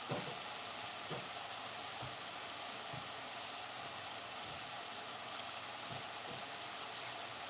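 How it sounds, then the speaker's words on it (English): Food fries in a skillet with a steady, quiet hiss and crackle, an even sizzle with occasional soft pops and knocks, close by and alone. "I'm going to put it in the skillet and let it fry a little bit"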